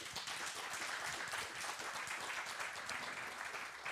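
Applause from an audience in a tent at a political forum during Almedalen week, a steady, even patter of many hands that sounds fairly distant and soft throughout.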